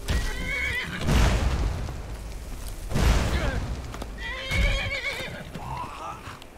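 A horse in a video game neighs three times in long whinnies, with hoof clip-clops and game effects between calls, and a voice briefly speaks under the sounds.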